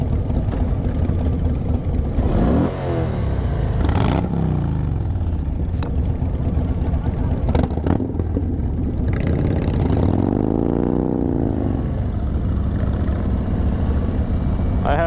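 A motorcycle engine runs loud and steady, close by, with a deep idle that rises and falls in a few revs and wind buffeting throughout.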